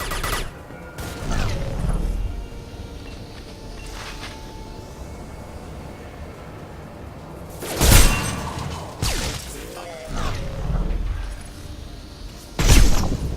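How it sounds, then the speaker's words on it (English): Bursts of rapid gunfire and sharp blasts in separate volleys in the video game Mass Effect 2, loud and punchy, with quieter stretches of rumbling background between them. "Did you not hear the gunfire?"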